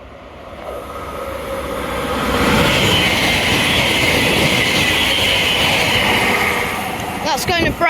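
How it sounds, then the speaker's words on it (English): A Greater Anglia Stadler FLIRT train runs non-stop through Romford toward London Liverpool Street, building to a loud, sustained close roar of wheels and rails before receding, with a squeal near the end. "doing a non-stop Greater Anglia service to London and Liverpool Street"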